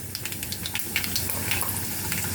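Urad dal frying in hot oil for a tempering, added after mustard seeds and chana dal: a steady close sizzle with scattered small pops and crackles throughout.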